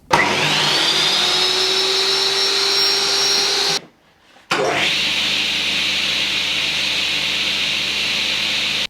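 A table saw driven by an induction motor spins up with a rising whine into a steady, even hum, cuts out briefly to near silence, then starts again and runs on smoothly and close by.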